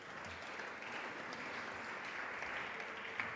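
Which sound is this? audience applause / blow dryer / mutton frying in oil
audience applause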